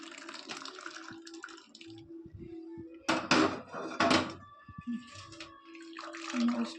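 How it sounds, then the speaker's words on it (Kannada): Cooking water is poured off boiled alasande (black-eyed peas) into a kitchen vessel, giving two loud, rushing splashes in the middle over a quieter background of light clatter and trickling. "ನೋಡಿ ನಾನು ಕಾಳು ಸಪ್ರೇಟ್ ಮಾಡಿಕೊಂಡು ನೀರು ಸಪ್ರೇಟ್ ಮಾಡ್ಕೋತೀನಿ."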